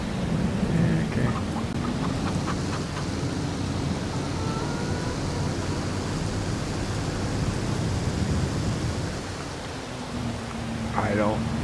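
Steady hissing video game rain from Farming Simulator 22 pours down with a low, rolling rumble of thunder beneath it, while a voice hums faintly at moments.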